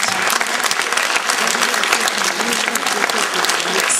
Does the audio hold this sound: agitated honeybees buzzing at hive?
no